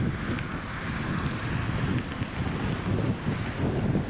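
Steady wind blows across an outdoor disc golf course, a continuous low rushing and buffeting on the microphone, moderately loud and unbroken, with no talk over it.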